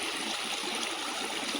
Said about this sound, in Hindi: इने पूरा पानी सुंदर किना बोई आसुचे